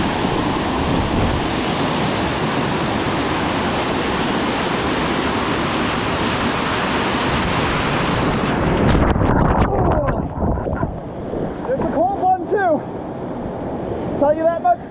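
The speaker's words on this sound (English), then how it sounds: "this, at the end of Mule Creek Canyon, is Staircase Falls. It's a stunner, and we're getting in it." Whitewater rapids of Staircase Falls at the end of Mule Creek Canyon, heard from a raft: a loud, steady roar of churning water for most of the stretch, then splashing, bumps and shouted voices as the boat drops through.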